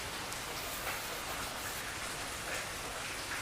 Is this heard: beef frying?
no